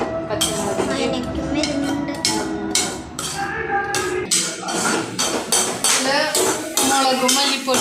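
A metal spoon scrapes and clinks against a pan while ginger, garlic and green chilli are stirred, making sharp repeated clanks in an uneven rhythm, close and loud, with a voice talking underneath.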